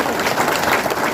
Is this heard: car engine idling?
no